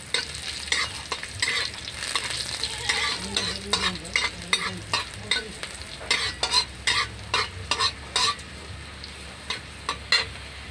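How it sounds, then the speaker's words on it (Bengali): Cumin seeds and dried red chillies fry in hot oil, a steady close sizzle broken by repeated scraping stirs and light spatula clinks, with no talking. "জিরেটা একটু ভেজে নেব"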